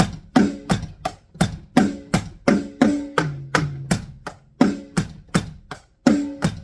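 A drum kit plays a steady beat of sharp, close hits, shifting into a brief fill before the pattern resumes, in the verse-to-chorus pattern of a song.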